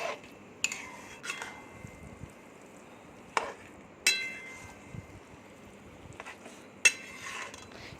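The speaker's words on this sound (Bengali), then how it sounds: "আবার এটা নাড়াবো চাড়াবো ম্যাশ করবো" Sharp metallic clinks and scrapes of a utensil against a pan while stirring and mashing vegetables for pav bhaji, scattered irregularly over quiet background.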